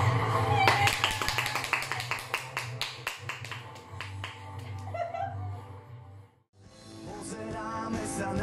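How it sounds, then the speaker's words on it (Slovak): An audience applauds the second-place singer at the KZP 2025 song contest livestream, with a run of sharp, fairly regular claps over a sustained background, a brief lull, then the sound picks up again. "Takže veľký potlesk."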